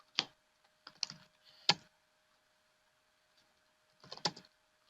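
Computer keyboard typing a Linux cd command: three short bursts of keystrokes, a pause, then a final cluster, close and clear with no talking.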